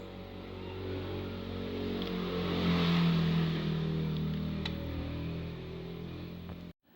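An amplifier's cooling fan runs with a steady, close whooshing whirr for several seconds, then cuts off abruptly when it is switched off near the end.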